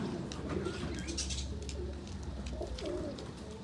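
Pigeons coo in low, rolling bursts nearby, with soft rustling and faint chirps in the background.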